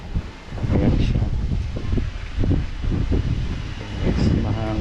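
Wind gusts steadily across a high attic terrace overlooking a swimming pool and mountains, a continuous rushing roar close to the microphone, with voices talking faintly underneath.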